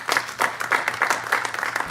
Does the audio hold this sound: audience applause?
yes